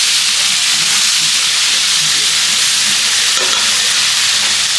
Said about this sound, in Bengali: মাছটা ভাজা না কিন্তু এটা ওই সবজিটা একটু ভেজে নিচ্ছে